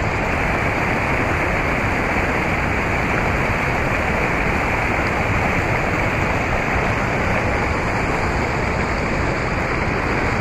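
Powerful waterfall roaring nearby, a loud dense and unbroken rush of falling water that holds steady throughout with no voices.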